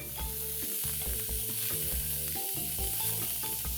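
Onion and capsicum sautéing in hot oil for a tomato soup, a steady close sizzle with repeated scraping and stirring strokes throughout, no talk.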